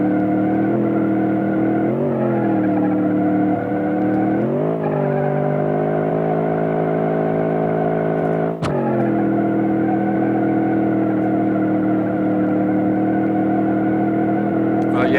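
A truck engine in a video game holds a steady, loud drone and shifts pitch several times as it revs up and eases off, with a sharp jolt partway through.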